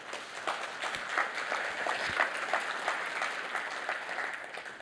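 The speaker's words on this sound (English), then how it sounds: "Please give him a round of applause." Conference audience at a PostgreSQL talk gives a round of applause for the speaker, a steady field of many hands clapping, moderately quiet and even throughout.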